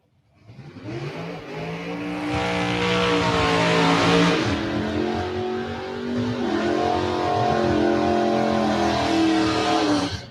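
Drag racing cars at South Carolina Motorplex accelerate hard down the strip, a loud, sustained engine roar with rising pitch that builds and holds for about ten seconds with no talking.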